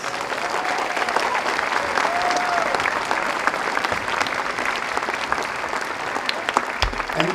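Audience applause at a Maui middle school district mass band concert: a steady, full round of clapping from a large crowd, with occasional whistles and cheers rising above it throughout.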